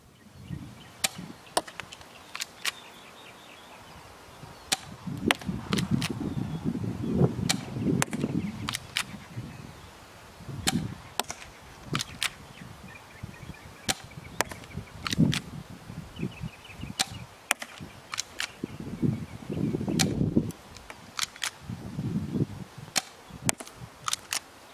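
UHC Colt 1911 airsoft pistol firing at a target 60 feet away, a long series of sharp, snappy pops spaced irregularly, each followed by faint rustling and handling noise.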